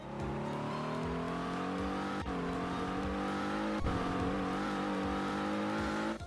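Car engines in a Roanoke VA driving game hum steadily, rising smoothly in pitch as they accelerate, with a couple of brief gear-shift dips.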